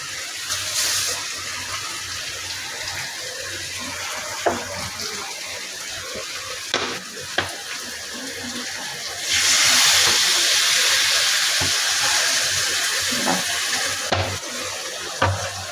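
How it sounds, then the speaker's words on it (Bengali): Water is poured into a pan of frying cauliflower and egg curry, a constant hiss of cooking broken by sharp knocks, then swelling into a louder rushing hiss of water meeting the hot pan for a few seconds before settling. "এবার একটু জল দিয়ে দেবো"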